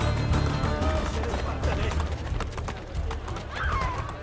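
Horse hooves clip-clopping at a gallop with a whinny, in the video game Assassin's Creed Brotherhood, loud and steady over a busy in-game soundscape with some voices mixed in.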